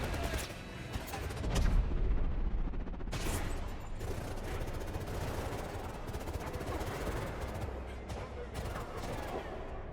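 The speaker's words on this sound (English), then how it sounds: "Use focus to line up headshots on these enemies, making every shot count." Gunfire in the video game 007: First Light, with rapid shots and bursts at the start followed by scattered shots over a continuous rumbling game background, with a voice talking throughout.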